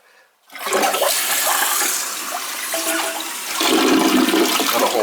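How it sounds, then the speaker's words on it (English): A faulty toilet flushes with its handle held down after a brief quiet moment, a loud close rush of water that swirls on and then surges stronger near the end. "Gotta hold the handle down for it to flush right."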